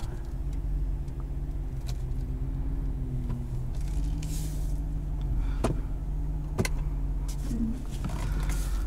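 Interior cabin sound of a 2018 Ram 2500HD SLT pickup with the 6.4L engine on the move: a steady low engine and road rumble runs throughout at a constant level, with a couple of brief clicks and no talking.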